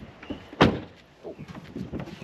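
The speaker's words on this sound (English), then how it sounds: "Violently close the door." A caravan door slams shut once with a sharp, close thud, followed by quieter rattles and shuffling.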